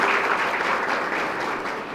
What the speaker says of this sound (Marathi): आपण टाळ्या वाजवून सर्वांचे एकदा स्वागत करूया.